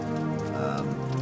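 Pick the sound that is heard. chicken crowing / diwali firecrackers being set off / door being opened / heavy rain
heavy rain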